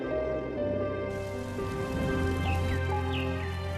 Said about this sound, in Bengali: বৃষ্টি পড়তে শুরু করেছে